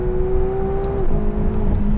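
A McLaren GT V8 supercar engine pulls hard with a steady, loud drone, then the pitch drops sharply partway through as a shift comes in, and it carries on climbing from there.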